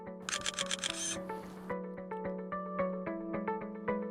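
A drone-mounted camera fires a run of crisp shutter clicks, a fast burst at the start followed by a steady series of evenly spaced clicks, close and clear over a constant background hum.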